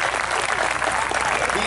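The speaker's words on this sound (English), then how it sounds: "Let's give a big round of applause to our service members who are here." Dense applause from a crowd at an outdoor summer concert series in Nesconset, honoring Army service members in attendance; steady, loud clapping with some cheering runs throughout without a break.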